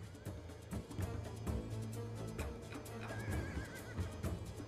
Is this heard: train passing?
no